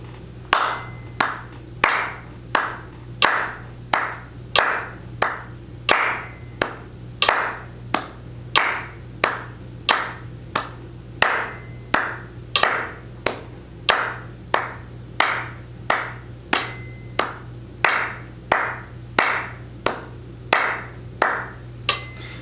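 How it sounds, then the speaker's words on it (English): Two hands clap a slow, steady beat, about twenty-six evenly spaced single claps, crisp and close, over a faint low hum. "ready, clap"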